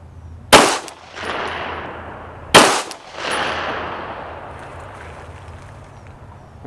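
Two sharp, loud gunshots about two seconds apart ring out during a tactical shooting drill, each with a long echoing tail, and no voices are heard.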